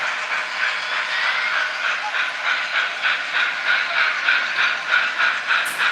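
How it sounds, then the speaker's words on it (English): An N scale model Christmas train runs steadily on a layout, giving a soft, even hiss with a faint regular clicking rhythm throughout and no talk. "Another Christmas train running over there."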